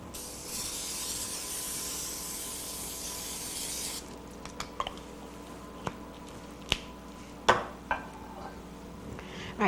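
Cooking spray hissing steadily onto a baking pan for about four seconds, close and soft, followed by a few light clicks and taps.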